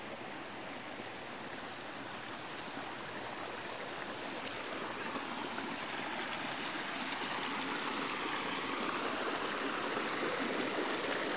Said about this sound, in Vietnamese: trên núi này nó tạo ra rất là nhiều dòng suối khác nhau